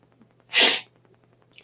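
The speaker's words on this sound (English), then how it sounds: "I'm trying not to sneeze." A single sharp human sneeze bursts out abruptly, loud and close, in an otherwise quiet indoor room.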